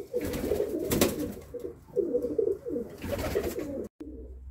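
Pigeons cooing in a loft of twelve breeding pairs, several overlapping throaty, rolling coos repeating continuously and close, with no talk.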